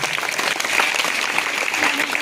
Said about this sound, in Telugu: క్లాప్స్ పెట్టండి.